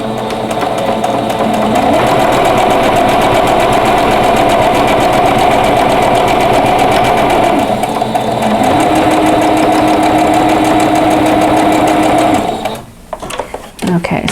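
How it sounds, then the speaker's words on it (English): Sewing machine stitching mitered quilt fabric along a drawn line, a loud, close, continuous mechanical hum with a rapid needle rhythm that runs for about twelve seconds before stopping. "I've got a line drawn, and I'm just going to sew right on that line."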